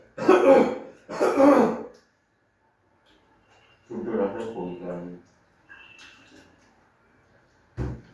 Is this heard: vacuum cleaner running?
no